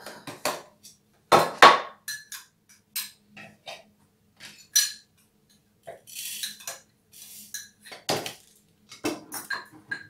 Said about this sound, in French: Ensuite, donc, je vais mettre ces graines dans le mixeur.